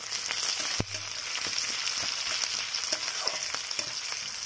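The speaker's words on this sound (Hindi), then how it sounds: "उससे पहले हम कुछ स्लाइस किए हुए प्याज को फ्राई कर लेंगे" Sliced onions frying in hot oil in a pan, a steady close sizzle and crackle with scattered pops and light stirring, no talking.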